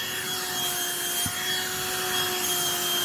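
A BLACK+DECKER Dustbuster cordless handheld vacuum cleaner runs with a steady whining motor drone and airy rush, constant and close throughout with a brief knock partway.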